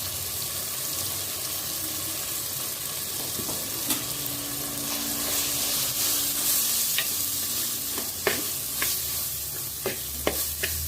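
Steady sizzling of onions and spices frying in a pan for crab curry, with occasional scraping stirs and clinks over a constant hiss.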